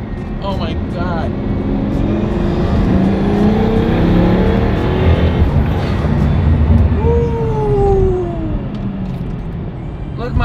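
A Pagani sports car engine drones loudly and close while driving, with steady roaring and a brief rising whine partway through; faint voices can be heard underneath.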